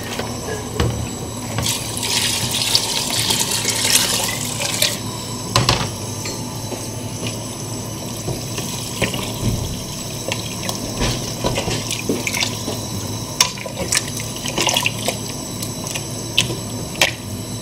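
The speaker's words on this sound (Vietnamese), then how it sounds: "1 lít rưỡi nước đun sôi vô." Water is poured from a vessel into a cooking pot, giving a continuous splashing, gurgling stream that is close and fairly loud for most of the stretch.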